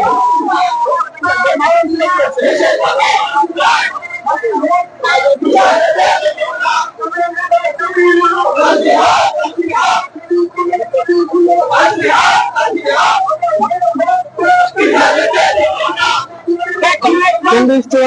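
Dense crowd of Muslim clerics and protesters chanting slogans in unison at a demonstration march at Baitul Mukarram, Dhaka, loud and continuous with rhythmic shouted phrases and cries throughout.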